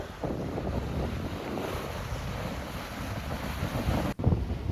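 A boat cruises along the Gulf Coast near the Pensacola inlet, with a steady broadband wash of engine, water and wind buffeting the microphone throughout, briefly cut by a dropout near the end.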